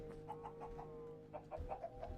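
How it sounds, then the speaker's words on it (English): Several chickens cluck in short repeated bursts inside a modded Minecraft game, close and fairly loud over a steady low droning hum. "I don't like the fact that I have to have chickens in my ceiling, because they make a lot of noise"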